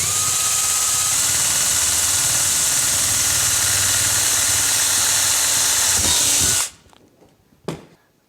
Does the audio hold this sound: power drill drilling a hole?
yes